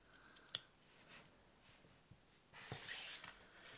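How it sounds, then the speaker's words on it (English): Scissors snip yarn ends on a crocheted Christmas decoration with a couple of faint, sharp cuts separated by quiet handling noise. "We can cut these ones out of the way"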